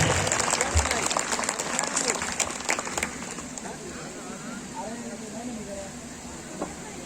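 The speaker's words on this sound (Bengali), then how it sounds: "আমরা সবাই করতালির মাধ্যমে একটু অভিনন্দন জানাই।" Audience at a company picnic opening ceremony clapping in congratulation as an honorary crest is presented, a dense burst of applause that fades after about three seconds into quieter background murmur.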